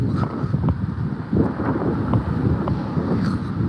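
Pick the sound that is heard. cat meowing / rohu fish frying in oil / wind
wind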